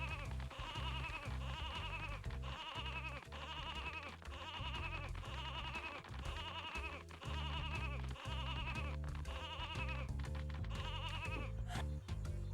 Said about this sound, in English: the sheep makes really cute noises all the time